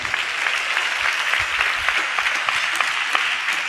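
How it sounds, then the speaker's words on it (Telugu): A church congregation claps hard and steadily at a sermon service. The applause is dense and continuous, loud and close throughout, with no voice over it. "గట్టిగా చప్పట్లు కొడుతూ స్తోత్రాలు చెప్దాం"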